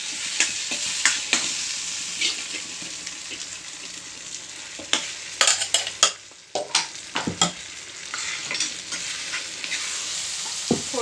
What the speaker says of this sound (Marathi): फोडणीमध्ये ही भाजी मी टाकून घेतलेली आहे.